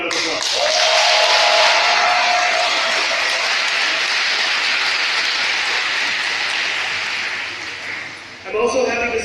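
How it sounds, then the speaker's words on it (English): An audience at a formal public-affairs ceremony claps in a broad, sustained round of applause that holds steady for several seconds, then fades and breaks off near the end. "Please give them a round of applause."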